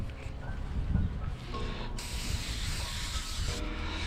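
Spray cleaner misted onto a folded napkin while cleaning inside a 2012-2017 Toyota Camry during a windshield installation, giving a steady close hiss over low background rumble.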